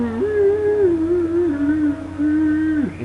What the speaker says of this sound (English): that's the Song of Dragons